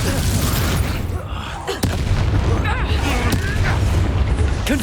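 The Incendio fire spell in Hogwarts Legacy on PS5 roars as a loud, continuous rumbling blaze. A few sharp cracks and whooshes break through it, with a brief dip in the middle.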